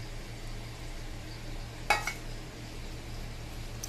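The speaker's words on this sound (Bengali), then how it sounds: "তো মাছগুলোকে দিয়ে দিলাম।" Prawns hit a hot pan with a short burst of clatter and a bright sizzle, and a steady low frying hiss runs underneath. A further faint clink sounds near the end.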